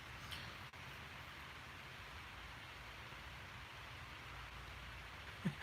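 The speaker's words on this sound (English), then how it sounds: "The rain was picking up pretty good out there." Rain falling outside on a farm at night, a quiet, even hiss of steady rainfall with no distinct drops and one small knock near the end.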